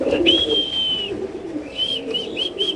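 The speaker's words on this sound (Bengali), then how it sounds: "এখানে আছে এক জোড়া চকল কবুতর" Soft cooing of racer pigeons close by, a long drawn call followed by several shorter repeated coos, over faint background murmur.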